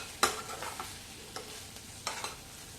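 Tomatoes and ginger sauté in a pan for chutney, with a soft sizzle and a few sharp spoon scrapes and taps, close and fairly quiet.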